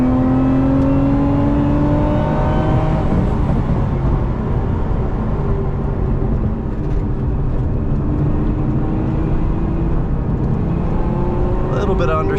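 A Lotus Emira V6 engine holds a steady, close drone in third gear, its pitch slowly rising and falling as the car is driven, with road noise and a voice talking over it.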